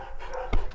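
A large shepherd-type guard dog pants close by, quick breathy puffs with a couple of sharper exhalations near the end, heard alone with no talking.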